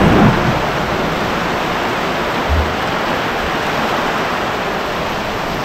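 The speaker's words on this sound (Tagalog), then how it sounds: "Pumapatak-patak na ang ulan." Rain falls during a motorcycle ride through Negros in the Philippines, a steady broadband hiss of rain and wind noise, loud and unbroken, with a brief low thump partway through.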